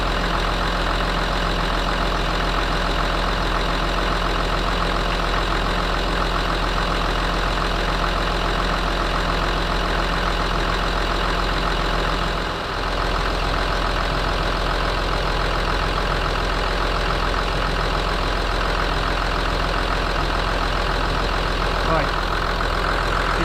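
A Land Rover Discovery 3 with its TDV6 diesel engine idles steadily up close, a continuous low rumbling drone under someone speaking.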